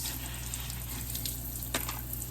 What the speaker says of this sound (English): wash the handle to your nippers, and then rinse.